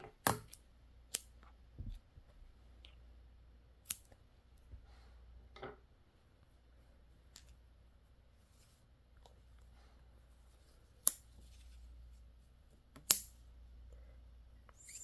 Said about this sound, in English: So you can cut off these two bobbins here.